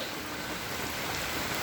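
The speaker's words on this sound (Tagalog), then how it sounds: "dahil sa lakas nga po ng ulan, medyo mahangin pa ng konti" Heavy overnight rain pours steadily in slightly windy weather during a low-pressure storm, a dense, continuous hiss with no voices.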